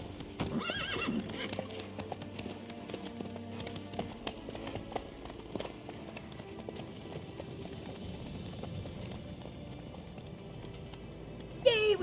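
Horse hooves clip-clop at a steady pace on a road with a whinny near the start, under faint voices and a continuous outdoor background in a fantasy drama scene.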